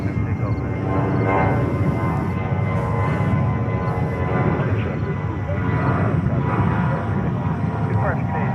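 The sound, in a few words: National Cargo heavy jet taking off from JFK runway 22 right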